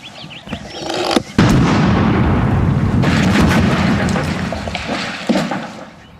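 A large explosion set off with fertiliser, a length of wire, electricity and a plunger erupts with a loud, close blast, then a long rumbling roar of debris that fades over several seconds.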